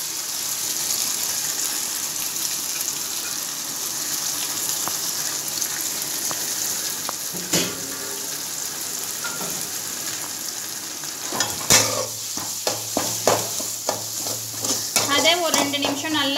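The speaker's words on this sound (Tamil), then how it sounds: "அதே ஒரு ரெண்டு நிமிஷம் நல்லா வதக்கலாம்." Onion and ground spices sauté in a pan of hot oil with a steady, close sizzle, followed near the end by scraping and clinking from a spoon stirring the mixture.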